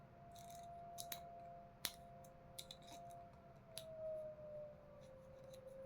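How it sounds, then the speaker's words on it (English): A siren wails faintly in the distance outside, a thin steady tone slowly sliding in pitch beneath close clicks and scraping of tools being handled. "Sorry for the sirens."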